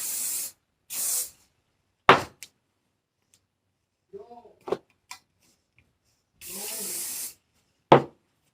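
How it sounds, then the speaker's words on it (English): Hairspray is sprayed onto brushed-out hair in a few short, close, loud hissing bursts separated by silences. Quiet handling clicks and brief speech fall in between. "Do we think hairspray is gonna help this?"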